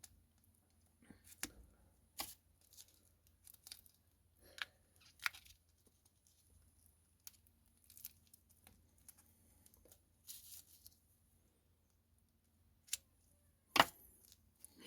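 Scissors snip through the plastic mint packaging around a silver bar, giving sparse, quiet cutting clicks and crinkles at irregular intervals in an otherwise silent room.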